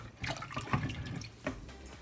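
Water poured into a cooking pot for homemade mint soup with moong dal, splashing and trickling in short uneven bursts, close and fairly quiet with no talking.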